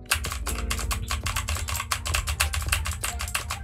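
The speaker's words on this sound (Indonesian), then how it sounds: "Kita akan coba ketik." Steady, fast typing on a computer keyboard, close and loud, recorded through a budget microphone set up for streaming, with dense rapid key clicks and a low background hum throughout.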